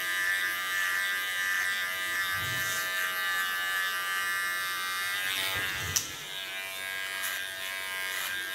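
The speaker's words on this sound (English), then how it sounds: "Put my blade to the back and just play with the combing effect of the blade." Electric hair clipper buzzing steadily up close as the blade combs and trims ultra short hair at the back of the neckline, a continuous even drone with a small click near the end.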